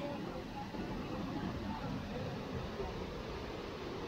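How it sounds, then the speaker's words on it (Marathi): Water pours hard at Lingmala waterfall, a dense, steady low roar of flow that fills the whole stretch without a break, with no distinct voices standing out. "भरपूर प्रेशर मध्ये वाहतोय ना पाणी"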